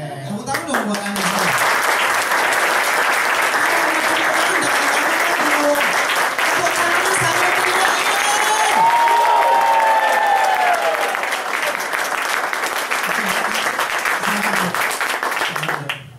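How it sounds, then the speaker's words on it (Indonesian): Sustained audience applause at an Indonesian morning motivational seminar, loud and dense for about fifteen seconds, with cheers and whoops rising over the clapping before it tapers at the end. "tepuk tangan dong buat Anda"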